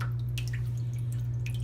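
Water dripping as Evapo-Rust is rinsed off Jaguar IRS car parts, scattered small drips over a steady low hum of running water or a pump.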